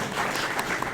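Audience applause breaks out at a live fan event, a steady wash of clapping held for about a second at moderate level, with no voices over it.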